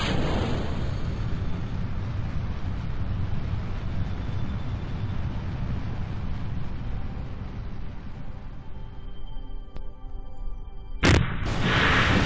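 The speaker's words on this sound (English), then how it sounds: "So, engines to full, and away we go." Rocket engines at full thrust during a launch in Kerbal Space Program make a loud, continuous, deep roar for about eleven seconds before cutting off abruptly into a short burst of noise.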